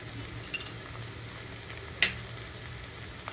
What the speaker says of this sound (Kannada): ಒಂದು ನಿಮಿಷ ಫ್ರೈ ಆಗಲಿ.